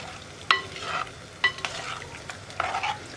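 A spoon stirs coconut curry in a pan as it heats, giving a few scraping strokes and clinks against the metal over a low simmering sizzle, close and intermittent.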